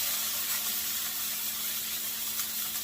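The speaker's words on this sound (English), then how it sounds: "I'm just going to ever so gently saute these so that we can serve them on top of our soup once it's ready" Vegetables gently sautéing in avocado oil in a pan, a close, steady soft sizzle and hiss that holds evenly throughout the short stretch with no talking.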